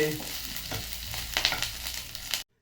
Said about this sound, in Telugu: ఇందులోనే కరివేపాకు కూడా వేయించుకుందామండి